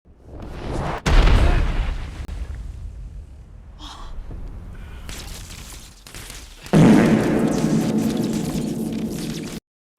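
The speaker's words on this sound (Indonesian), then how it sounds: "roket tersebut meledak" A rocket explodes with a sudden loud boom, followed by a rumbling roar, a lull with scattered noises, then another heavy rumbling blast that cuts off abruptly.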